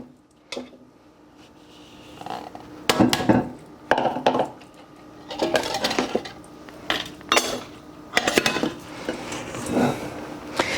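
Egg white and whey bread batter being mixed in a bowl, with intermittent utensil scrapes and clinks against the bowl in irregular bursts, close and moderately loud, no talk.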